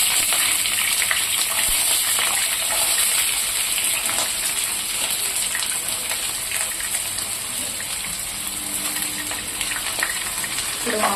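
Onions sizzling and frying in hot oil for aloo bonda, a steady loud hiss that runs throughout with light stirring noises, while a voice talks over it.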